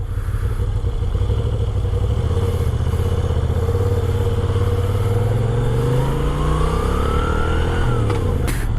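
A Moto Guzzi V7 II motorcycle is ridden with a steady, loud engine drone and wind rumble, the pitch climbing as it accelerates toward the end.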